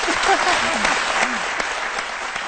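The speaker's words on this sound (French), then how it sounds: "Applaudissements pour Alpha." An audience applauds at a live performance, loud continuous clapping from a crowd filling the space, with a voice briefly audible over the ovation.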